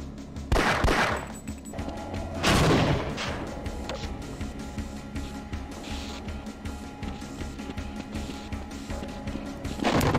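Gunfire in the video game Half-Life: Blue Shift: two loud bursts of shots stand out, followed by a steady rattle of weapon fire over a continuous game soundscape with a low hum.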